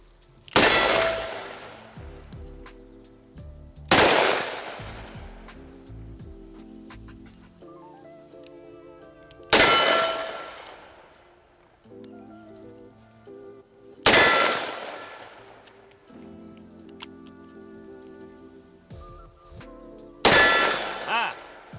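A revolver fires five spaced shots, each followed by a bright metallic ring from a steel target that decays over a few seconds. Quieter handling clicks and ticks fill the pauses between shots.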